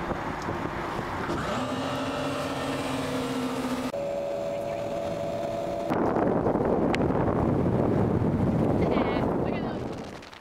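A motorboat towing a tube drones steadily and rises in pitch as it accelerates, with wind buffeting the microphone throughout.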